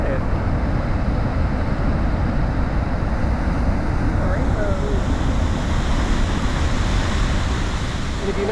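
Niagara Falls waterfall pours in a steady, even roar heard from nearby, a constant wash of water noise with faint voices in the background.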